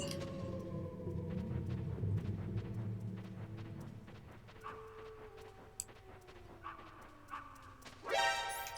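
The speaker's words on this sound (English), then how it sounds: "That was just the puppy." A small puppy yips and barks in the Metal Gear Solid video game, short scattered barks over low ambient game music with no talking.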